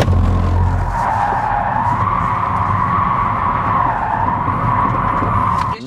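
Tires of a Kia EV6 GT electric car squeal loudly and continuously while drifting, a sustained, wavering screech close by that fades out at the end.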